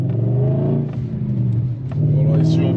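A decatted BMW 540i E39 V8 revs hard with a loud, rough exhaust drone, dipping briefly before climbing again to a strong, sustained roar.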